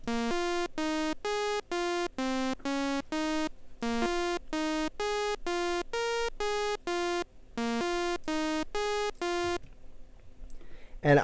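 A synth lead plays a melody in a vocal remix as a series of evenly spaced, bright, buzzy notes with short gaps between them, clear and prominent, ending in a quieter tail.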